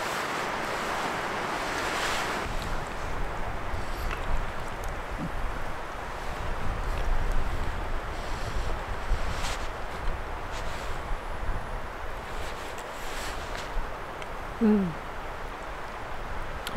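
Cold wind at night in dark woods at a camp with huskies, a continuous broadband roar with gusts buffeting the microphone, steady and fairly loud throughout.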